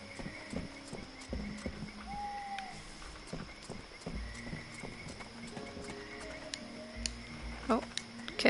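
Horse hooves clip-clop in a video game, a run of light irregular hoofbeats with a short whinny in the middle, faint under quiet background tones.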